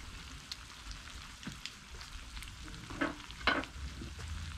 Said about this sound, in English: when your minced meat is roasted, you're gonna add some of the concentrated tomato juice